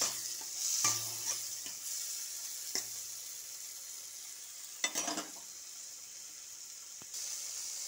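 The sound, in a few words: frying and stirring vegetables with tomato and onion in pan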